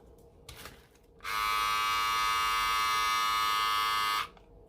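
Pro Design water-resistant cordless hair clippers switch on with a sudden, loud, steady electric buzz that runs evenly for about three seconds, then cuts off, with faint handling before and after.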